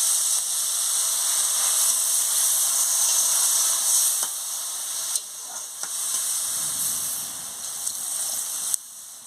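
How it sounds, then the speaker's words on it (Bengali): Water hits a hot pan of lightly fried pumpkin stems and hisses, a bright, steady steam sizzle that holds throughout, with a few faint knocks and clicks from the pan. "এবার আমি জলটা দিয়ে দিচ্ছি।"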